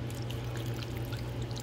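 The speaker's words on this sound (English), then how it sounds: "I'm going to add a little bit more water to this." Water poured steadily into a pan of chicken, a continuous close trickling and splashing flow with a low hum underneath.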